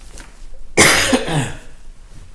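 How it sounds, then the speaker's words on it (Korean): A single sharp, harsh cough bursts out close by during a Bible reading, after a quiet moment, trailing off into a rough breathy rasp. "아유, 이놈의 기침."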